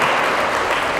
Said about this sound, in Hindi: जरा जोरदार तालियां बजा दें